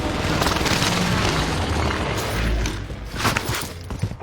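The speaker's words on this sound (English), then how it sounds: "Airstrike on my target." A video game airstrike lands as a loud, rumbling boom with a sustained roar of blast and debris, swelling again with a few heavy thuds toward the end; no talking.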